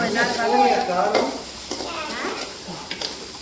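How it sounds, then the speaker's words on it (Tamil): Chicken sukka with ginger-garlic paste sautéing in a pan, a steady loud sizzle broken by the scrape and clatter of stirring, with no voices over it. "இது கொஞ்சம் நல்லா வதங்கட்டும்"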